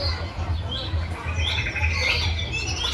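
Birds chirp and call at an exhibition, with scattered tweets and squawks over a low hum and faint crowd murmur.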